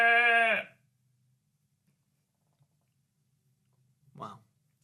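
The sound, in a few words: person imitating a sheep bleat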